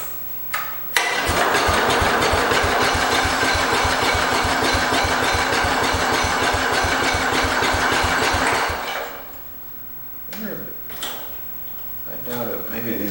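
A 1968 Cub Cadet 122 garden tractor engine kicks over and runs with a rapid, even firing beat for about eight seconds, then dies out, leaving a few scattered knocks and clunks afterward.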